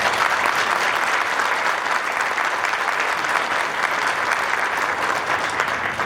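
Graduation ceremony audience gives a sustained round of applause for honors students, dense and even clapping from a large crowd throughout.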